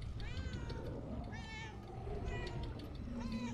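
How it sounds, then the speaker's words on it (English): Cat meowing in the video game Murdered: Soul Suspect: several drawn-out, wavering meows over a steady low game ambience, moderately close. "Distract him with the meows!"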